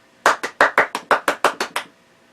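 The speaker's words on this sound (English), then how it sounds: "I'm clapping for myself" A man claps for himself: about ten crisp, close hand claps in a quick even rhythm, alone and with no voice over them.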